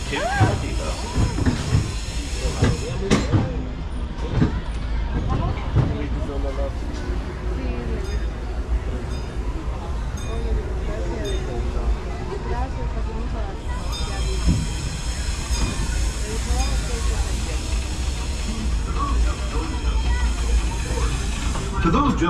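Disneyland Railroad steam train rolling along the Rivers of America on its Grand Circle Tour, with steady rumble, hiss and clatter of the cars throughout, a recorded announcer's voice running over it.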